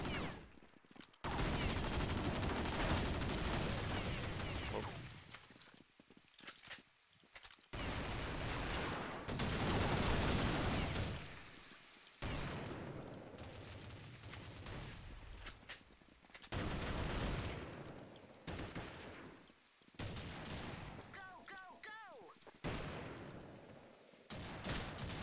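AS50 sniper rifle gunfire in Counter-Strike Nexon: Zombies sounds as loud, repeated shots and dense bursts of game combat that continue with short pauses throughout, with faint voices occasionally underneath.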